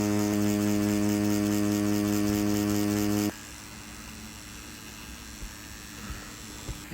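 A BRONC TOUGH wireless adjustable-stroke tattoo pen running with a steady, tonal electric buzz for about three seconds, then stopping abruptly and leaving faint room noise.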